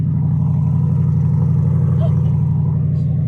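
A C8 Corvette with a Borla exhaust idles and revs close by, a loud steady throbbing rumble throughout with faint voices in the background.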